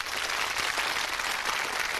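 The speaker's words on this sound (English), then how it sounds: "Ladies and gentlemen, a nice round of applause for team number one, Linda and Craig." Studio audience on a 1998 ITV game show applauds as the first team is introduced, a steady, even roar of many clapping hands held at a moderate level throughout.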